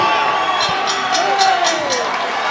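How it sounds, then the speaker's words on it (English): A boxing crowd on its feet roars and cheers continuously at the end of Mark Flanagan vs Floyd Masson, with rhythmic clapping bursts through the noise and a commentator talking over it. "Stand and applaud. The whole crowd are on their feet."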